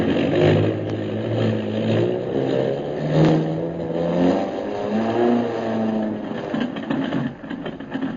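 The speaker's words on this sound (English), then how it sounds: "Turn the motors over, pilot" Twin airplane motors turning over and running up on a jungle airstrip, a steady loud droning engine roar with low harmonic bands that rises and falls, heard alone.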